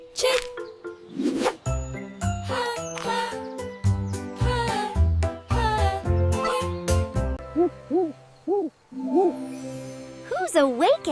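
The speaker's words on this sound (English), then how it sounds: "Who's awake at night? It's an owl." An owl hoots through a short musical sequence of chimes and tinkling notes, and the rising hoots repeat several times toward the end.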